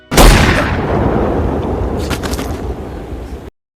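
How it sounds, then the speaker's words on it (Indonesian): One loud, close gunshot from a rifle in a film, with a sharp crack that rolls into a long, heavy rumble and fades over a few seconds before cutting off. "seketika tembakan tersebut membuat Billy tewas."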